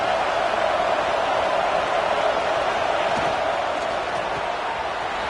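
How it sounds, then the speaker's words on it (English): Dense, steady roar of a college football stadium crowd cheering, loud and continuous without letup, a broad wash of voices filling the whole stretch. "this crowd is fired up. Listen to this noise here."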